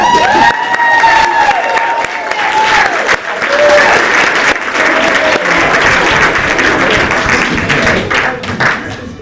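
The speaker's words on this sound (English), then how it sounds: "especially a big round of applause for his creation of the door." Loud applause and cheering from a school theatre audience after a play performance, dense clapping with whoops and shouts sustained for several seconds, close and full.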